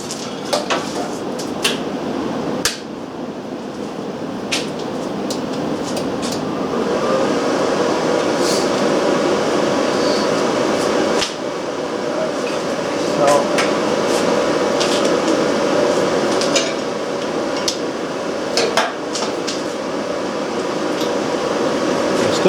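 A Yeswelder ARC-125DS inverter stick welder burns a large rod at full power, giving a steady, close crackling buzz with scattered sharp pops that runs unbroken for a long stretch, with no voices over it.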